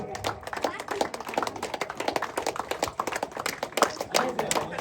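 A crowd claps steadily during the prize distribution at a village cricket tournament, with dense, uneven hand claps continuing throughout under loud announcer talk.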